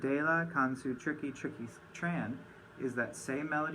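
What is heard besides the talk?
No everyday noises stand out.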